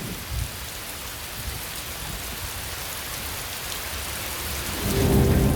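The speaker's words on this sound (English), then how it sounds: "The heavy clouds finally give way, soaking the earth below." Heavy rain pours down in a steady dense hiss during a storm, with a deep rumble of thunder swelling near the end.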